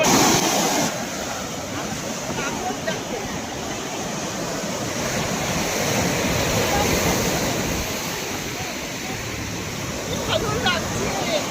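Rough sea waves breaking at Puri beach make a steady, loud roar of surf with wind noise, lasting throughout without a break.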